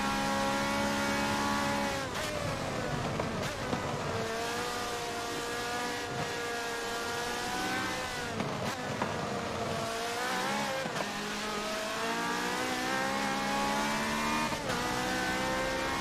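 A GTR race car in a Le Mans simulator racing game, its engine held at high revs, whining steadily and loudly with rising and falling pitch through gear shifts across the whole stretch, no voices.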